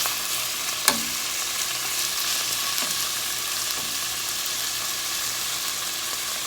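Beef pieces for stew browning in a pan give a steady, continuous sizzle, with a few light clicks and scrapes as the meat is turned. No one speaks.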